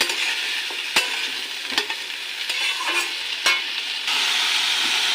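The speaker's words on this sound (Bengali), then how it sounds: "ভালো করে একটু আলুর সাথে নাড়াচাড়া দিয়ে নেব।" Pumpkin greens and potato pieces stir-fried together in a pan, a loud continuous sizzle broken by several sharp scraping strokes of the spatula.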